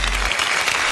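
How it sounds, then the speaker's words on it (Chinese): Studio audience applauding on a Chinese antiques and collectibles TV show, a short, loud burst of crowd clapping with no talking over it. "同时掌声欢迎第二位藏宝人"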